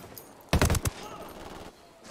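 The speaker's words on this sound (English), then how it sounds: "I saw him and I shot at him." A short, loud burst of rapid gunfire from a Ghost Recon Wildlands firefight cracks out in about half a second, then gives way to quieter background ambience.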